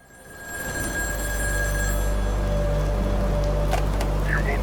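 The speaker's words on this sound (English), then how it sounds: "we are greeted by a phone call that clears up one thing" A telephone rings in the video game In Sound Mind, a steady electronic trill rising from faint to full and holding loud and continuous over a low droning background.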